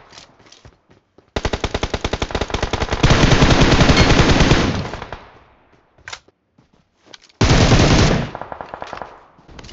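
Rapid automatic machine gun fire in the mobile shooter BGMI (PUBG Mobile), loud and close, with a long sustained burst, a few single shots, then another heavy burst that tails off.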